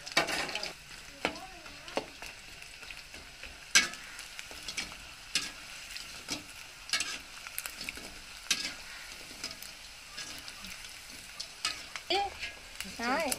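Mutton chilli frying in hot oil as it is stirred, a steady, fairly faint sizzle broken by frequent scraping and clinking stir strokes, with brief speech now and then.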